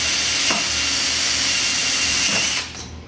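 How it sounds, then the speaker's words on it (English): A power drill whirs continuously at close range while drilling a Daisy B52 slingbow, its high-pitched motor steady before winding down near the end. "Helps if you put the drill bit in straight."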